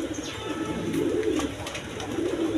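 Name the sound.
green-necked Giribaz high-flying pigeons cooing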